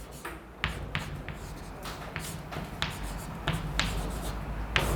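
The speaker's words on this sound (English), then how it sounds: "Let me write it down" An equation being written by hand on a board during a mathematics lecture, a steady scratching with repeated sharp taps and strokes, close and continuous, with no talk.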